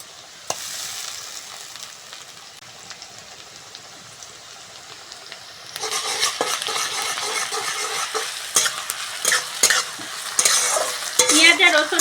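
Onion and garlic fry in a pan, a softer sizzle at first, then louder close stirring and scraping with steady crackle, growing busier toward the end.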